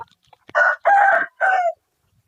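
Rooster crowing among backyard chickens raised as pets, three loud close harmonic bursts forming a single crow, with a short pause before and silence after.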